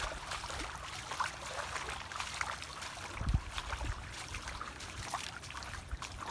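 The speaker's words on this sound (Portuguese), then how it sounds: "Vou ver se eu consigo mostrar o riacho mais de perto por esse outro lado aqui para vocês" A small stream swollen with May rains flows steadily, a continuous close rushing and trickling wash with no voices.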